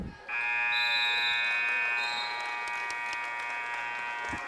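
A loud, sustained electronic end-of-quarter buzzer at a girls' high school basketball game blares for several seconds, harsh and steady, with faint arena noise behind it.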